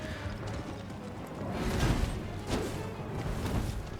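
Horse hooves clip-clopping in Elden Ring, a steady run of muffled hoofbeats against continuous game ambience and rumble, moderately loud throughout.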